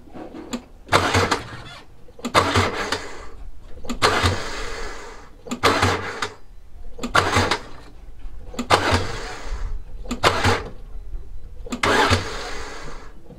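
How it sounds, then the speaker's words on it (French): A Mercedes-Benz W124 engine cranks repeatedly without catching: about seven bursts of starter grinding, each a second or so long, separated by short silences, close by. "On donne des coups de clé et on ne démarre pas le moteur."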